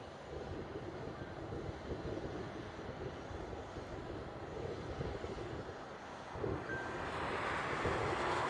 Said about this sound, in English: Asiana is now turning on the reef runway.